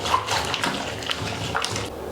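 Cloth diapers are agitated in water inside a sealed Scrubba wash bag, giving a continuous soft sloshing and swishing that churns steadily with no voices.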